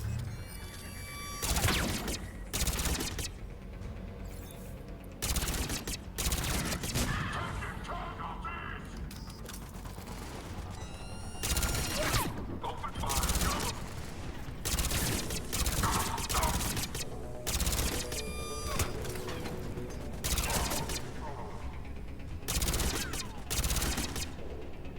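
Gunfire in Mass Effect 3 comes in repeated loud bursts of rapid automatic shots separated by short pauses, alongside mechanical clicks and a low game background.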